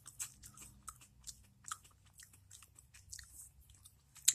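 Utz Heluva Good French onion potato chips are bitten and chewed in faint, close crunches that come in short irregular bursts with quiet gaps.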